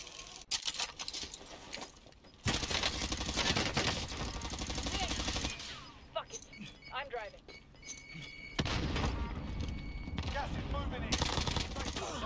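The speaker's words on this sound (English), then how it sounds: "Are they shooting at you?" Video game gunfire comes in sustained automatic bursts and scattered single shots, loud and close, with players talking over it and gaps of quieter play between the volleys.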